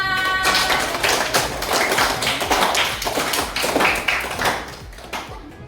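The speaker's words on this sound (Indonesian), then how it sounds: "Tepuk tangan dulu untuk semua." A fifth-grade class claps hands together, sharp distinct claps in a quick irregular rhythm from a small group, close and fairly loud, thinning out toward the end.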